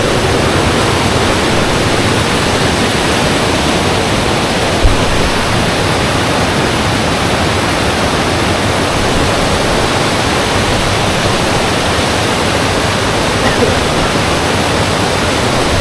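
Steady, loud rushing roar of a waterfall, heard from close by near the top of the falls, continuous and unbroken throughout.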